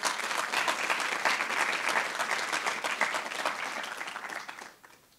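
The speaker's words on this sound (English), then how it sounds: "So please give her another round of applause." A lecture audience gives a Penn State student a round of applause: full, sustained clapping from many hands that holds steady, then tapers off and fades near the end.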